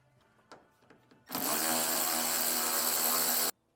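A power tool, likely an impact driver, runs in one steady loud burst of about two seconds, backing out 10 mm bolts from the spoiler on an S650 Mustang deck lid, after a few faint workshop clicks.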